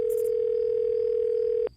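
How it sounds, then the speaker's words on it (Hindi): A steady, unbroken telephone tone sounds close and clear while a call is being placed, holding level for nearly two seconds before cutting off abruptly, with no voices. "पापा ने सच्चिदानंद अंकल को फोन लगाया"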